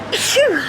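A single short sneeze from a person in a home setting, close and fairly loud, with a quick sharp burst followed by a falling vocal tail.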